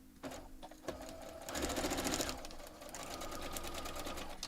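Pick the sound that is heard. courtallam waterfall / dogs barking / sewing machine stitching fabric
sewing machine stitching fabric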